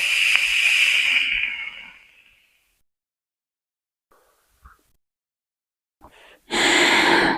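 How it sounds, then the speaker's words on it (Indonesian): Vapor is exhaled from a Sturdy ONE Up vape kit at 0.33 ohm and 35 watts with 4.0 mm airflow, heard as a long, close breathy hiss that fades out. After a brief gap, faint clicks and a short puff lead into a second loud exhale. "Seperti ini hasil uapnya, kita tes uap dulu ya."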